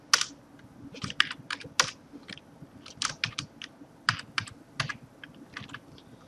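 Fingers typing on a computer keyboard, a close, quiet run of irregular key clicks in quick bursts with short pauses between them.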